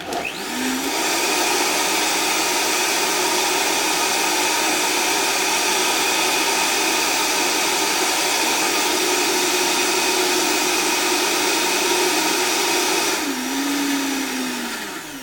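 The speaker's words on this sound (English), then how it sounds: "I still hear rattling. It's because the nuts aren't soaked." A Vitamix blender runs at full speed on unsoaked nuts, a loud continuous roaring whir with a faint rattle, ramping up at the start and shifting pitch near the end with no talking.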